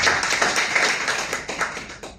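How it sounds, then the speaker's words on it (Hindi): An audience claps at an indoor gathering, with a short burst of dense, close applause that fades slightly toward the end. "प्लीज एक बार जोरदार ताली हो जाए।"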